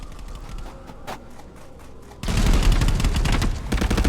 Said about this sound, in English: Blind firing.